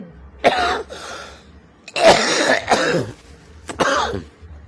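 Several harsh coughs and throat clearings come in bursts, a single one first, then a close cluster of two or three, then another, loud and near with quiet pauses between.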